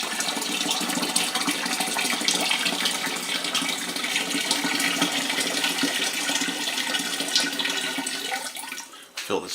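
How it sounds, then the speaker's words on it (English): Hot water runs steadily into a container while a wash is being made, a continuous broadband gush that stays loud for most of the clip and breaks off briefly near the end. "we're going to put hot water in"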